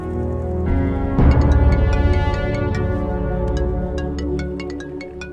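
A phone ringtone rings in a scene from the Telugu movie Bimbisara, a loud, bright repeating electronic melody with ticking accents that plays continuously without speech.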